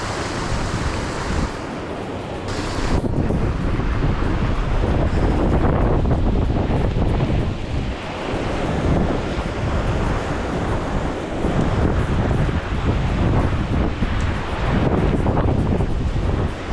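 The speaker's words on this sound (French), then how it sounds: "il y a vraiment trop de vent les gars" Strong, constant wind roars and buffets the microphone while trout fishing in extreme conditions, a dense rumbling gust that barely lets up; surf-like wash underneath, no voices.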